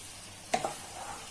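Pickled mustard greens and vegetarian duck stir-frying in a pan give a soft background sizzle, broken by two quick scraping stirs close together.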